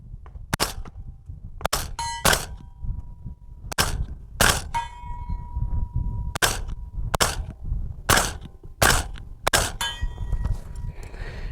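Suppressed Maxim Defense 300 Blackout rifle fired in a string of about a dozen sharp cracks at irregular intervals, several followed by metallic ringing pings from steel targets, close and without talk.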